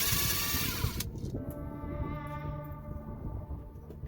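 Bolts on a truck's differential cover being spun off with a power tool, a loud whirring burst up front that drops to a steadier, lower mechanical whine with faint rattles nearby.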